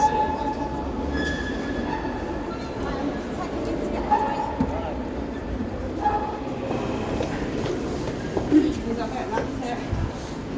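A passenger train on the Calder Valley railway line rumbles steadily, with faint wheel squeals and clicks over the track. Muffled voices murmur beneath the constant rolling noise, as on a crowded service.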